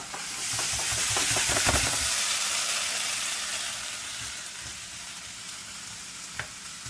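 Potatoes with onions and peppers fry in oil in a pan on a stove turned down to medium, a loud close continuous sizzle and hiss that swells early then eases, with a few faint clinks and no talking.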